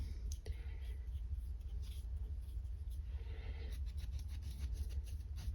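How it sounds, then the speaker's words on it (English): A paintbrush scrubs short crisscross strokes across a canvas, making faint, close, rhythmic brushing scratches over a low background hum. "I'm just going to crisscross short brush strokes like this along the corners and the sides"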